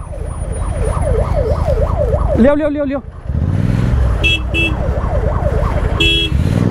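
A wailing ambulance siren cycles steadily amid dense NCR traffic, broken by a brief yelping burst, with engine rumble, horn blasts and shouting voices around it.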